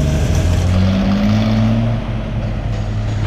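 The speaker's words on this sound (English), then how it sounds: "There goes our 706 farm all tractor with our 838 farmhand grinder" A Farmall 706 tractor pulling a Farmhand 838 feed grinder drones loudly nearby with a low, steady rumble and a shifting pitch as it works under load, easing off slightly toward the end.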